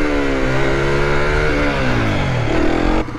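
An Aprilia SX 125 motorcycle revving in first gear while its rider practises wheelies, the loud engine note rising and falling in pitch as the throttle opens and closes, close by, then cutting off sharply at the end.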